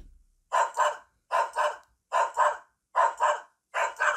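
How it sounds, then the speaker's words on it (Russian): Synthetic dog barks played through the rear speaker of an IIIF150 Air1 Ultra rugged smartphone, five evenly spaced pairs of sharp, tinny woofs repeating in a steady loop. "здесь есть симуляция собачьего лая"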